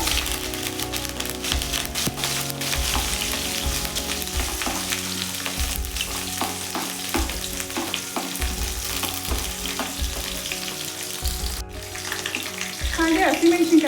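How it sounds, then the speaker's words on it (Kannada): Curry leaves and sliced onion sizzling in hot oil, a loud steady crackling fry close up, with occasional stirring knocks and a rising burst of sizzle toward the end. "ಹಾಗೆ ಕರಿಬೇವು ಮತ್ತು ಈರುಳ್ಳಿ ಹಾಕೋತಾ ಇದ್ದೀನಿ"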